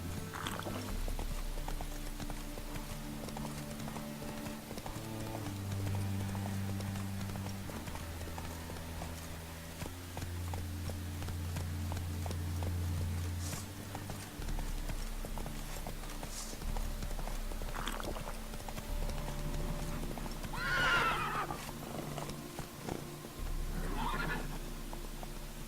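Roach the horse in The Witcher 3 game, with steady clip-clop hoofbeats throughout under a game music bed and a couple of neighs near the end.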